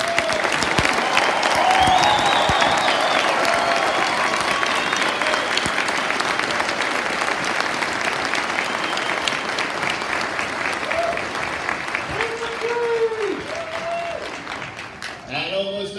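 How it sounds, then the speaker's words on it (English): Sustained audience applause at a U.S. Army National Guard graduation ceremony at Fort Benning, Georgia, loud at first and gradually thinning, with a few voices and whistles rising near the end. "so please join me in another big round of applause"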